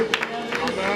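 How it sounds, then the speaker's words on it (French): A church congregation applauding during a French-language sermon, a steady wash of clapping and crowd noise with a few sharper bursts standing out across the full second. "Applaudissons pour sa parole"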